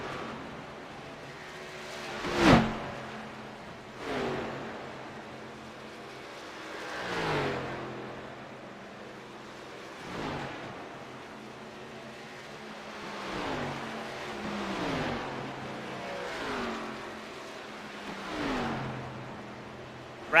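ARCA race cars at Kansas roar past in a steady series of passes, each engine swelling and fading with a Doppler drop as it goes by, some near and loud, others more distant.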